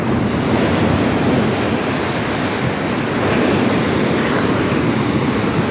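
Large sea waves pounding during a signal number 2 typhoon near a fishing village in Barangay Langugan, Palawan: a loud, continuous roar of surf with buffeting wind noise on the microphone.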